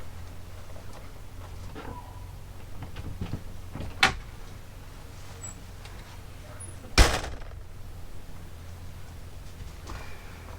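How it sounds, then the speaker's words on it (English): An RV's screen door opens and closes, giving two sharp knocks about three seconds apart, the second louder, against a quiet low hum with faint soft movement between. "let me get the screen door so I don't let any bugs in."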